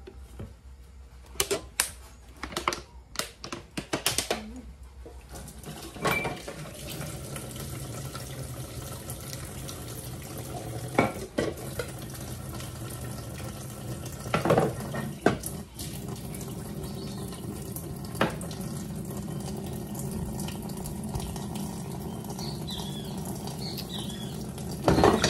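Tap water running into a sink while dishes are washed on a small farm, with clattering dishware at first and then a steady rushing stream throughout, close by.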